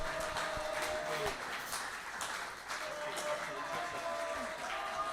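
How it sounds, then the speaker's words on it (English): Faint, distant audience applause at a live show at The Warren in Hayes, a dense wash of clapping that holds steady throughout. "please keep your round of applause going"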